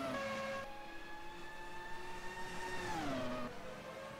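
A 1997 Formula 1 car on a flying lap in the racing game Automobilista, a high sustained engine whine held steady before dropping in pitch as it shifts, moderately loud with no speech.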